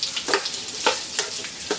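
Boiled chicken gizzard sautéing for sisig, a close, bright sizzle with a few short stirring scrapes in the pan.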